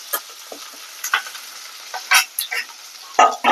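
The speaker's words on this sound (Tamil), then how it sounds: "இப்போ பாருங்க, பச்சை மிளகா, கருவேப்பிலை, வெங்காயம்." Green chilli, curry leaves and onion sauté in a hot pan, giving a steady light sizzle broken by several short bursts of stirring and scraping, close and fairly loud, with no voices.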